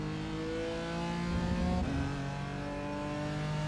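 BMW M4 GT4 racing engine in iRacing at Road America, a steady loud drone that climbs in pitch as it accelerates, briefly dipping at a gear change before pulling up again, with no talking.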